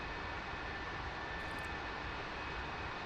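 An F-16C Fighting Falcon jet engine running in the DCS flight simulator game, a steady loud broadband roar with a faint whine, continuous and unchanging, no talk.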